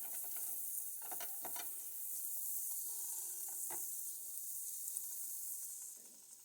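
Butter sizzling in a frying pan as a bread omelette of eggs, cheese and milk cooks, a steady hiss throughout with a few faint clicks and scrapes, no talking.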